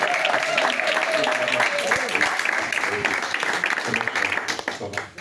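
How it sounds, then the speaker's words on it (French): A church congregation at a Sunday service applauds to welcome a first-time visitor. Dense, continuous clapping fills the room and thins toward the end, with voices mixed in. "Vous n'acclamez pas?"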